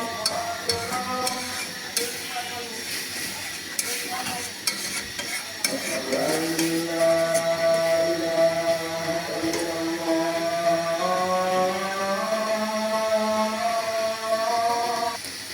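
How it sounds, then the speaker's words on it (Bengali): A melodic Islamic call to prayer carries in from nearby, a sustained wavering chant rising from about six seconds in, over the steady sizzle and stirring of spices being fried for a loitta fish curry. "আমাদের এখানে আজান দিচ্ছে"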